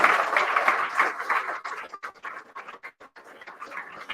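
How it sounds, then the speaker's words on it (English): An audience gives a round of applause at a live evening event, a dense, loud burst of clapping that thins out into scattered, fading claps. "give Noel Mooney, Chief Executive of the FAW, a round of applause"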